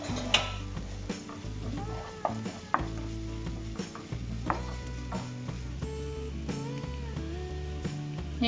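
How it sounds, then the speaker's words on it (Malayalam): Ginger-garlic paste, green chillies, chopped curry leaves and onion are sautéed, with quiet uneven sizzling broken by repeated spatula scrapes and knocks against the pan. "ഇത് നമുക്ക് നന്നായിട്ടൊന്ന് വഴറ്റി കൊടുക്കണം ഒരു 2-3 മിനിറ്റ്."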